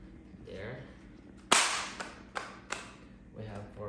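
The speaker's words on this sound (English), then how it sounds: "This ones are snappers, so you can snap on your finger or throw it down on the ground." Small snapper fireworks crack sharply on the ground, with one loud pop followed by three fainter pops at uneven intervals, and murmured voices before and after.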